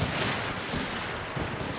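Rapid gunfire bursts from a machine gun in the WWII strategy game Company of Heroes 3, North Africa setting, crackling steadily and densely at mid distance, with no talk over it.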